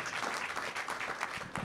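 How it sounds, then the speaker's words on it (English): A conference audience at a panel on climate and decent jobs gives a brief round of applause, soft and steady, heard from a distance. "Going to get a clap for that?"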